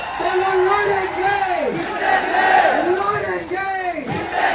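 A large crowd at an outdoor political rally chants a short slogan in unison, rising and falling voices repeating in loud rhythmic bursts amid shouting.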